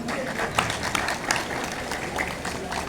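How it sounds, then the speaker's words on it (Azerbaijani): Crowd applause from spectators in the stands, a dense, steady wash of many hands clapping with scattered louder claps and some cheering throughout. "özəl sektorları gürültülü alqışlayaq"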